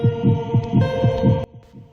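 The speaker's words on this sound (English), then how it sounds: "as your heartbeat gets louder and louder" Heartbeat at low health in the video game Dementium The Ward, steady thudding double beats over a droning hum, repeating rhythmically for the whole stretch before fading.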